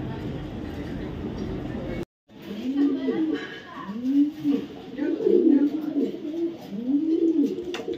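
Female racer pigeon cooing close by, several repeated low rolling coos in a steady rhythm after a brief pause, with faint background noise.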